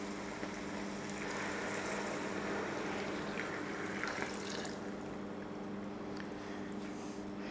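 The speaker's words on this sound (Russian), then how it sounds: "Заливаю воду примерно 2 стакана воды на 1 стакан гречки." Hot water poured steadily onto buckwheat in a pot, about two cups of water to one cup of grain, making a continuous close splashing and gurgling stream with a faint hum behind it.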